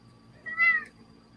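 A nearby cat gives a single clear meow, rising then falling, over a quiet low background hum.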